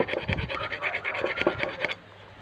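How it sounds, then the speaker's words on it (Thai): A metal file rasping across the sharp edges of a freshly re-bored engine port, a quick run of about a dozen rhythmic scraping strokes close to the microphone, then a stop. "ใช้ตะไบถูให้ คมมันหายนะครับ"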